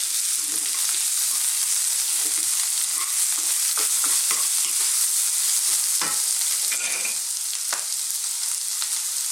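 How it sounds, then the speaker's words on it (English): Red onion stir-fries in a wok with ginger and cabbage, a steady close sizzle with scattered stirring scrapes and clicks throughout, no voices. "We're now going to go in with our onion. I'm using red onion today"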